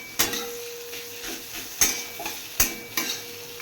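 Red amaranth greens with salt, turmeric and green chili stir-fry in a pan: a steady sizzling hiss punctuated by four sharp, evenly spaced clanks of a spatula striking the pan.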